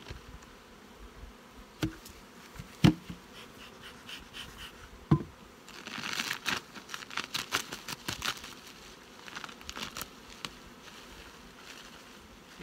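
Honeybees in the brood nest of a hive during late August, roughly a hundred on the frame, buzz in a steady close drone, with sharp crackles and taps of frames or wax breaking through, denser in the middle stretch.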